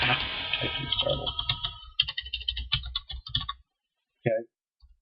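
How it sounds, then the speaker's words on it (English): Rapid clicks of keys being typed on a computer keyboard, close and distinct, with a voice speaking over the first part before a brief pause. "Typing started."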